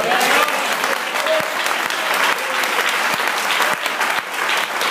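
A church congregation applauds in praise of God, a dense, continuous wash of clapping from many hands that holds steady for nearly five seconds, with a few voices mixed in.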